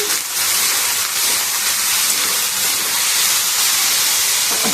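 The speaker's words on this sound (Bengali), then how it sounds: "ভাজা বসিয়েছি ঝিঙেটা।" Ridge gourd fries in a hot pan, giving a loud, dense, unbroken hiss that stays steady and close throughout.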